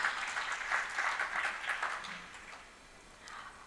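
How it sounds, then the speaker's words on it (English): An audience at a business conference fireside chat applauds for a few seconds, the clapping moderately distant and fading toward the end. "Mr. Mahavir Pratap Sharma, give it a huge round of applause and welcome."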